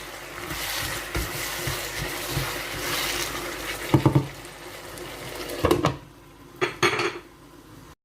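Prawn gravy ingredients sautéing in a pan, a steady sizzle under repeated stirring scrapes and metallic clinks of a spoon against the pan, with a few louder knocks toward the end.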